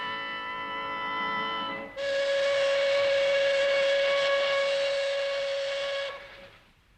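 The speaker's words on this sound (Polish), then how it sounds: "Jak codziennie jeden z wielu pociągów wyrusza do Szczecina." A steam train's whistle sounds as the train departs for Szczecin: a steady, loud tonal blast that shifts to a fuller, brighter note partway through, then cuts off, leaving a fading hiss.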